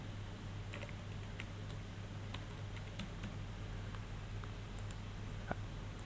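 A password is typed on a computer keyboard during League of Legends account setup: faint, steady key clicks under a constant electrical hum, with no talking.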